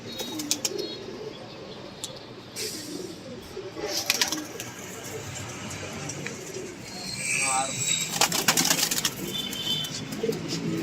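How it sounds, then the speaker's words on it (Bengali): Khaki pigeons coo softly in a home loft, with low repeated throaty calls and a brief flutter of wings. Nearby voices talk over them. "এই খাকি কবুতর"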